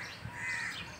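Crows caw by a house door in the early morning, one drawn-out harsh call standing over soft outdoor background noise.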